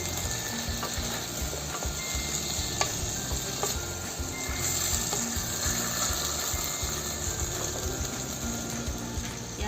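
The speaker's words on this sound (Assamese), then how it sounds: "এইখিনি লৰাই ল'ম এতিয়া।" Onions and green chilies stirred in a hot cooking pan for chicken biryani, a steady close sizzle of frying with occasional scraping clicks of the utensil, no talking.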